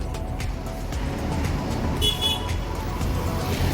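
Bus pulling into the Mandi bus stand amid steady roadside traffic, a low engine rumble close by with a brief horn toot partway through.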